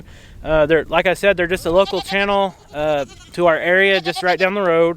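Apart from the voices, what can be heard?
goats bleating on a farm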